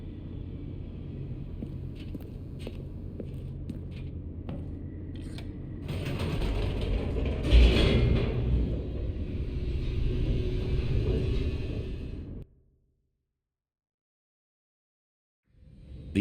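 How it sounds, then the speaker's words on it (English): An elevator descends in The Stanley Parable: a low mechanical rumble with clanks and creaks swells to a heavy jolt midway, keeps grinding, then cuts to silence before a final thump. "elevator raced downward"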